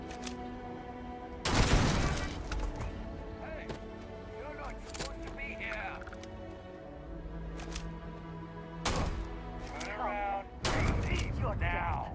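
Gun turrets in the video game Starfield fire a few heavy bursts of gunfire, booming and clustered, among continuous game sounds while a person speaks between shots.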